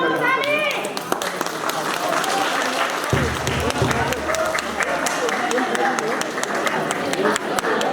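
Guests clap together at a Gurung wedding ceremony: steady, dense applause fills the room throughout, with voices talking over it.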